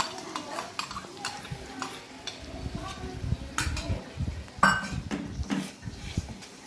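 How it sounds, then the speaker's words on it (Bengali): Yogurt being stirred into a fish curry in a pan, with irregular scraping and clinking of a spatula against the pan, close and moderately loud, a sharp knock midway. "আর দইটাকে ভালো করে ফাটিয়ে দিতে হবে।"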